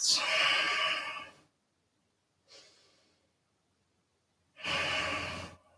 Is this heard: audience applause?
no